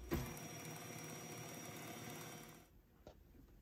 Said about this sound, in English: We're just gonna turn this on low and let everything mix together really well.